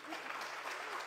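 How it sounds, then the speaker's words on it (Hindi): Brief burst of audience applause after a live folk music performance with banjo, violin and flute, faint and distant, a soft continuous patter of many hands. "इतनी तालियां मेरे ख्याल से काफ़ी नहीं हैं"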